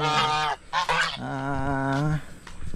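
A bird that has flown into a newly roofed, net-covered hut gives loud, harsh honking calls, several drawn-out bursts close by with brief gaps between.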